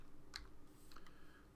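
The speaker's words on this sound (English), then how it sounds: "I keep hitting enter instead of delete on this keyboard" Quiet clicking of keys on a computer keyboard while coding, a few soft scattered taps close by in a calm room.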